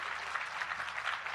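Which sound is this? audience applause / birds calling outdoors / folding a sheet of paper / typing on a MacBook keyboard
audience applause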